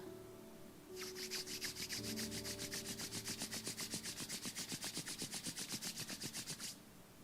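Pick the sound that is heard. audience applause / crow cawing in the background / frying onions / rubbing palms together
rubbing palms together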